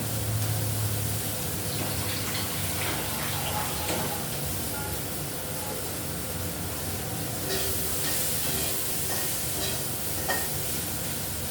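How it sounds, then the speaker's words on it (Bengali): Okra frying in a pan with water added, giving a loud, continuous sizzle and hiss with occasional stirring scrapes, steady throughout and heard alone without talk. "একটু মোটামুটি ভাজা ভাজা হওয়ার পর আমি একটু জল দিয়ে দিয়েছি"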